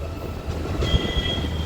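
A train runs from Secunderabad to Chidambaram, heard from inside a 3AC coach with a steady close rumble of wheels on rails and a thin high squeal coming in partway through, without talking.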